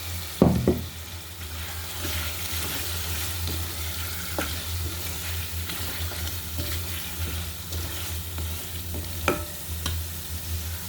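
Shing catfish sizzling in hot oil in a pan while being cooked into a spiced bhuna, with steady frying crackle, a loud splash as the pieces go in, and occasional clinks of stirring.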